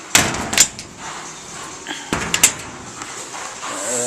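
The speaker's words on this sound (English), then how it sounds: "We're going to close this door" The metal access door of a 2011 Thermal Care NQA15 AccuChiller, a 15-ton air-cooled chiller, is handled and shut, giving two sharp clanks followed by a softer rattle and latch click, close and loud, with no talk.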